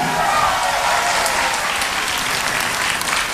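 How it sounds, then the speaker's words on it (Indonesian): Studio audience applauding at an Indonesian television reality show broadcast, a steady dense wash of clapping holding at even loudness throughout, with no voices over it. "Tepuk tangan untuk Anda semua yang hadir di studio."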